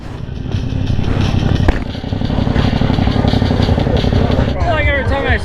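A new Yamaha R7 sport motorcycle on its first ride, its engine droning steadily and loud throughout, with wind noise and a brief burst of sound partway through and a squealing tone near the end.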